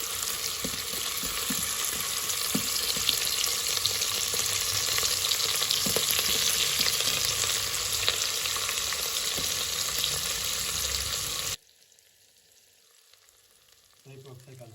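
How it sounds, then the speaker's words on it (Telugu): Peeled, lengthwise-cut potatoes frying in a Geek Robocook electric pressure cooker, a dense, steady crackling sizzle close up that stops abruptly near the end, leaving near silence with a faint rustle. "ఈ టైంలో మనము ఆలు కూడా వేసుకుంటానండి"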